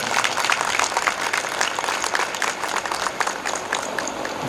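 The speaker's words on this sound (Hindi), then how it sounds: "आपके डायरेक्टर सर और आपके कॉलेज के लिए ज़ोरदार तालियां बजाइए" Audience applauding at a college award ceremony, a continuous crackle of many hands clapping at moderate loudness, steady from start to finish with no speech.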